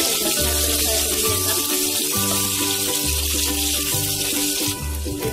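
Onions frying in hot oil in a pan after mustard seeds and cumin, giving a steady close sizzling hiss that runs throughout under background music.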